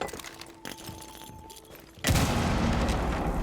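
A frag grenade detonates in a competitive shooter match, a sudden loud blast that cuts in partway through and leaves a sustained roaring wash after the quieter gunfire and game noise before it.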